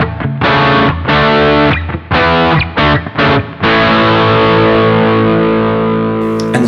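Electric guitar played through a Boss GT-1000 multi-effects unit with a Cry Wah block switched off, giving loud distorted chords in short choppy stabs, then a long sustained ringing chord that slowly fades.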